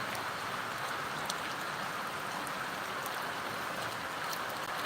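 Rain falls in a steady, even hiss with soft patter. It stays continuous and fairly close throughout, and no voices are heard.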